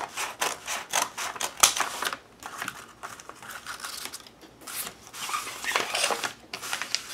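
Scissors snip and crinkle through a Trader Joe's paper grocery bag along its bottom edge, a rapid run of crisp cuts and rustles, close and fairly quiet.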